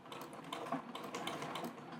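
A Singer 237 treadle sewing machine doing free-motion embroidery, its free-motion foot bobbing with a rapid, steady train of small mechanical clicks and ticks, quiet and close, with no talk.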